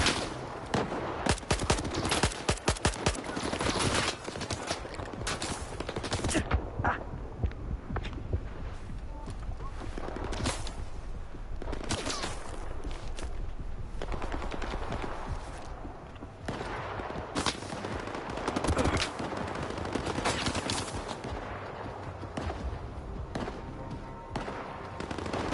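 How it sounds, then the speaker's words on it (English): Sustained gunfire from the video game S.T.A.L.K.E.R. 2 crackles in rapid bursts of automatic shots and scattered single reports for the whole stretch, loud and continuous, with a voice occasionally talking over it. "Who's actually shooting? Against who?"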